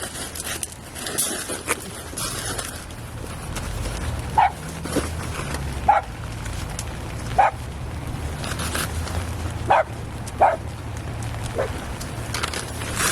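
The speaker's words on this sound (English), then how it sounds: "You barking at me?" A dog barks outdoors at a coastal spot, six or so short sharp barks spaced a second or two apart over a rough background of wind and rustling.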